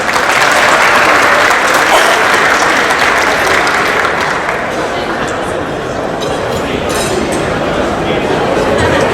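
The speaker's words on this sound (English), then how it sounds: "Everyone, please give a round of applause for Houston Airport's Director" Audience at an Ethiopian Airlines event in Houston applauds the Houston Airport director: loud, dense clapping from a large crowd, steady and continuous, tapering slightly toward the end.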